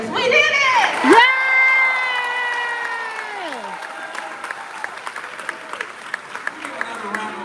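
Applause and cheering from a graduation ceremony audience fill the hall, with a loud swell of clapping and shouts that settles into scattered claps while a voice speaks over the crowd.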